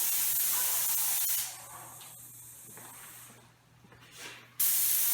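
A paint sprayer with a 415 tip applies a second coat of satin paint to a dark wood ceiling. The airless spray gives a loud, steady hiss in close bursts that fades out midway and then cuts back in sharply.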